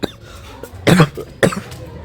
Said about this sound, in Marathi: खोकला होतं चिप्स खाऊन